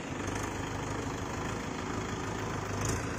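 A Mahindra Yuvo 585 DI 4WD tractor drives a rotavator at 1000 RPM, its engine a steady low chugging drone with a busy churning clatter, continuous and fairly close.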